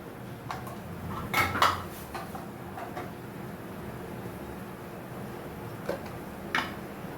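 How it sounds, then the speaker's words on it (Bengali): Boiled potatoes mashed by hand with cumin, coriander and a little chili powder, giving faint, sparse clinks and taps against a bowl in a quiet room. "ধনে গুঁড়ো আন্দাজ মতন দিয়ে আমি ভালো করে চটকাচ্ছি আলুগুলোকে"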